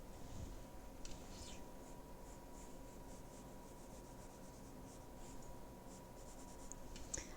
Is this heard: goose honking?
no